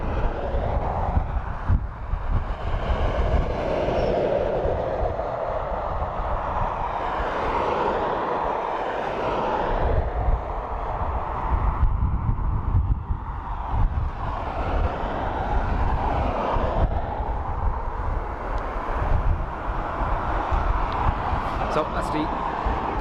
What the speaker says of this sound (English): So that's the A330 pushing back, heading off to New York